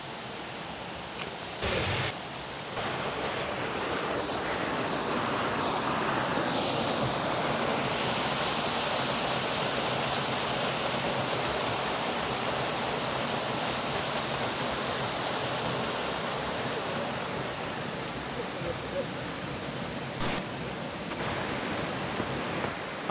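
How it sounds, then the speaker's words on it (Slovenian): A small waterfall spills into a little pool on a mountain trail, producing a steady, close, full rushing hiss of falling water that holds nearly constant throughout, with brief handling bumps and no speech. "ta mali tolmun z majhnim slapom"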